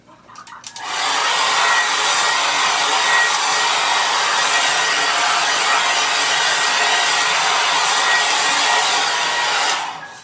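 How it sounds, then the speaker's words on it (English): A hair dryer blows steadily on natural hair for about nine seconds, a loud close roar starting with a brief click and sputter and then cutting off at the end. "I'm gonna blow dry this one"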